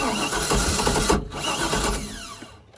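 A boat engine with a suspected ignition fault cranks over steadily without catching, a continuous mechanical whirring churn close by that cuts briefly and then trails off at the end.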